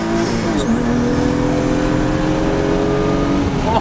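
A VW Golf 1.8T with a K04 turbo pulls hard under acceleration, a loud, steady engine drone with a thin turbo whine climbing in pitch, heard close and continuous throughout.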